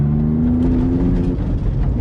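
A Volkswagen Up TSI engine with its exhaust joint disconnected, giving a steady, raw engine drone with a slight rising whine, close and loud, heard alone without talk.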